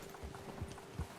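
Horse hooves in the video game Red Dead Redemption 2 clip-clop in three soft, evenly spaced beats at a walking pace, fairly quiet, with no talk.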